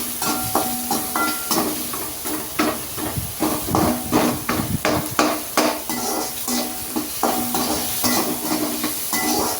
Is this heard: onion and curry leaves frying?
yes